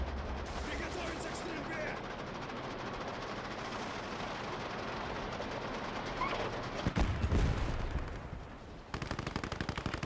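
Gunfire from the side gun of a Panzer VIII Maus tank in Gates of Hell: dense bursts of rapid shots over battle noise, with a heavier blast near the middle and a brief lull after.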